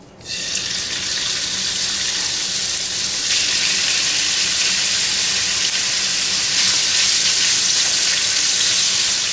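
Beef browning in oil in a skillet for chili, a steady loud hiss of frying that runs without a break the whole time.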